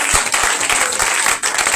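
A church congregation breaks into loud, dense applause during a Pessah worship service, close and continuous for a couple of seconds.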